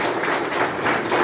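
Audience applause welcoming a bishop at a church gathering where groceries and vegetables are handed out to pastors, steady dense clapping from a crowd filling the whole short moment.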